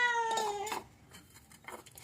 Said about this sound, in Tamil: எங்கள் பூனைக்குட்டி வேற கத்துறதை நிறுத்தாமல் கத்திக்கிட்டே இருக்கு